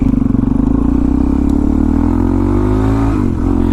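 A motorcycle engine holds a loud, throbbing, near rev while the bike is lifted into a wheelie, droning steadily before the pitch dips and wavers near the end.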